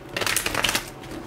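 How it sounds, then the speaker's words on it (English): Tarot cards being shuffled by hand, a quick run of close, crisp papery riffling bursts lasting about a second, with no voice over it. "And let's just do one more shuffle here."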